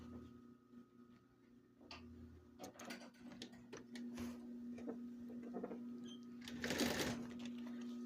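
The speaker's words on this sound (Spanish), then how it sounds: "Acomodamos y vamos cosiendo." Sewing machine stitching backpack fabric and a zipper, running in stops and starts with a steady mechanical whir, ticking needle strokes and handling noise, fairly close.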